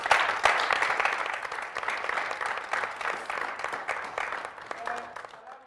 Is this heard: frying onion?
no